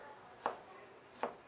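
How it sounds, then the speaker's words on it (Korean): A butcher's knife chopping pork belly at a Korean market stall, two sharp separate chops about three-quarters of a second apart, close and clear over a quiet background. "칼질이 예사롭지가 않으시네요."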